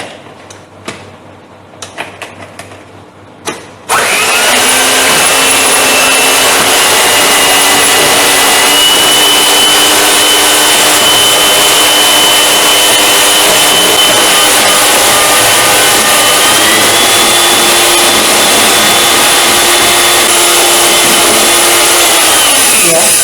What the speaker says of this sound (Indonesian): Kita mixer sampai dia mengembang.